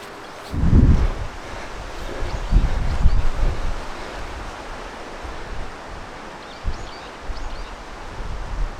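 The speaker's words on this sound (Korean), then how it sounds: "바람은 많이 불어서 시원한 것 같아요" Wind gusts across a mountaintop overlooking Chungju Lake on a clear May day, rushing and buffeting the microphone in bursts, strongest early on, then settling into a softer steady blow.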